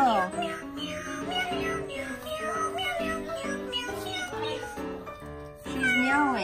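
A FurReal Friends toy cat meows repeatedly in bright, electronic-sounding cries, fairly close and steady, with tonal chirpy rises and falls throughout.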